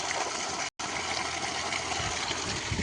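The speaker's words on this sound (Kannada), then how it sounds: "ಡೈರೆಕ್ಟ್ ನೀರು ಬರ್ತಿರೋಂಥ ಬೋರ್ ನೀರು" Borewell water from a 3-inch pipe gushes out on farmland as a steady, fairly quiet rushing flow, broken only by a brief dropout near the start.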